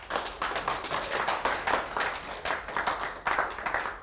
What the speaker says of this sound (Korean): 박수 한 번 더 치겠습니다.